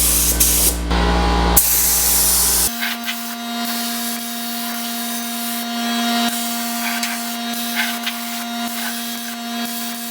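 A spray gun sprays epoxy primer onto the bare metal of a GTO restomod, a loud continuous hiss with steady compressor drone and hum, bursts of spray cutting in and out.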